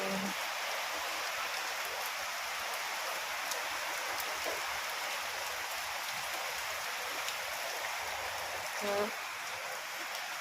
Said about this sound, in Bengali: এ বাবা বৃষ্টি কত চলে এসেছে